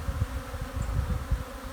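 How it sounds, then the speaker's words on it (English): Honey bees buzz densely around a newly installed hive from a package, a steady close low drone with pulsing swells and no talking. "Lots of bees buzzing around, they're getting oriented."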